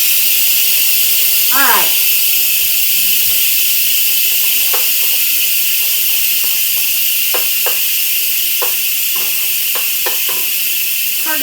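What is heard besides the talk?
steam hissing out of a cooking pot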